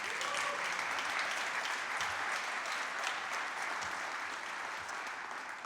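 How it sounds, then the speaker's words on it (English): A concert audience applauds a big band at a tribute concert, producing a full, even roar of clapping that holds steady before easing slightly at the end. "How about one more round of applause for this outstanding band?"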